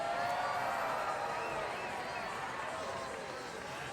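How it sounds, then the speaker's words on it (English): A video-game crowd at an idol photo event in Yakuza 5 cheers and roars in a steady wash of noise, fading slightly toward the end, with a voice talking over it. "It's a very loud crowd for like 10 people."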